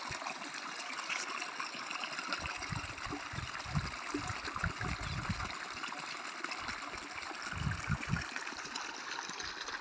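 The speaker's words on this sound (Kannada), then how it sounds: "ಆ ಬೋರ್ವೆಲಿಂದ ನೀರು ಬರ್ತಾ ಇರ್ತಕ್ಕಂಥ" Water from a borewell runs on irrigated farmland, a faint steady trickle and gush with a few low, irregular splashing surges and no talking.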